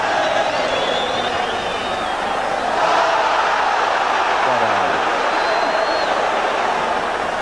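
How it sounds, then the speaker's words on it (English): A packed stadium crowd roars steadily in support of Stoke during a 1982 League Cup second-round first-leg match against West Ham, a dense continuous swell of voices that rises a little midway. "And the crowd getting behind Stoke now."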